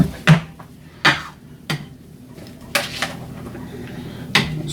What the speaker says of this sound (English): Spoon some veggies.